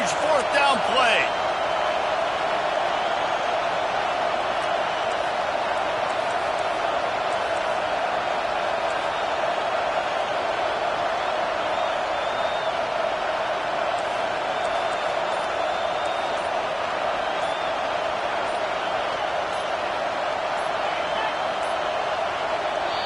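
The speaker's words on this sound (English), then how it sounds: "This crowd bringing serious noise on this" A football stadium crowd roars during a 4th down play in a Miami at Notre Dame game, a loud, unbroken wash of noise that holds steady throughout.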